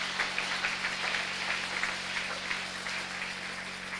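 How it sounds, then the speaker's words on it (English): A church congregation claps in praise of Jesus Christ, a steady, moderately faint patter of many hands over a constant low electrical hum, with no talking. "Shall we give a clap of praise to Jesus Christ?"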